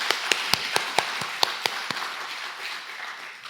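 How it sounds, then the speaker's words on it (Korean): A church congregation applauds its choir after a hymn. A few distinct, evenly spaced claps come first and then thin into soft, diffuse patter against a quiet room. "다시 한번 감사의 박수 보내드리겠습니다"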